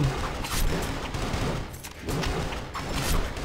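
Rapid gunfire from the mobile action RPG Ultimate Heroes, sustained bursts of shooting that run continuously at a steady loud level throughout, with no pauses.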